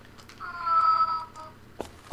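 A cat meows once in the video game Fragile Dreams, a drawn-out tonal cry at moderate volume in an otherwise quiet space, followed by a brief faint clatter.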